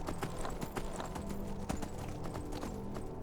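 Horse hooves clip-clopping steadily at a riding pace in the video game Skyrim, a continuous near rhythm of hoofbeats over game ambience.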